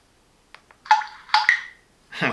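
A TCL Onetouch 4043 phone plays a sequence of short electronic tones: brief clicks, then two clear beeping chirps and a final rising tone, each separated by silence, close and clean.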